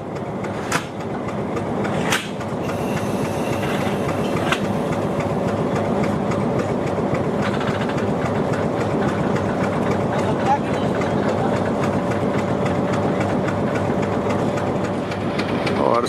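A passenger train stands at Mari Indus railway station, its engine giving a steady, loud, low idling rumble throughout, with voices and station bustle mixed in nearby.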